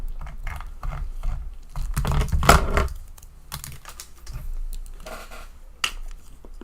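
Rapid clattering keystrokes on a computer keyboard set hard on a desk, bursts of uneven typing close up with one heavier thump in the middle and no voice.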